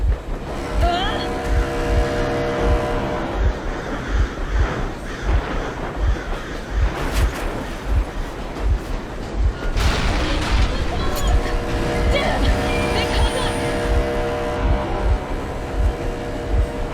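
A vehicle engine runs steadily in the video game Metro Exodus, a loud, continuous rumble with rhythmic low pulses and brief louder surges, while voices are heard over it.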